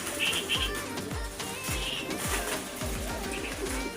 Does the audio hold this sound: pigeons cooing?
yes